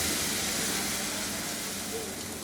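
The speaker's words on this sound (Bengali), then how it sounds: "এইটাকে একটু মিনিট খানেক ভেজে নিব এর সাথে" Spices and tomato sauce frying in a pan give off a steady, even sizzle with a soft hiss that holds constant throughout, close and fairly quiet, with no voices.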